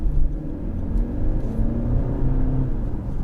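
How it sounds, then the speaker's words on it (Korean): Genesis GV70 2.5T gasoline turbo engine with active sound switched off, cruising at low revs: a steady, smooth, fairly quiet engine hum and rumble with faint road noise throughout, no speech. "확실히 지금 거의 1000rpm, 2000rpm에서는 상당히 정숙하고 엔진의 회전 질감이 굉장히 부드러워요"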